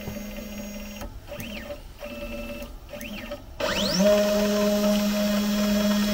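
Sainsmart Genmitsu 4040 Pro CNC router moving its axes to home position, with stepper motors whining at steady pitches in short bursts separated by pauses, then a rising sweep into a louder sustained drone up close.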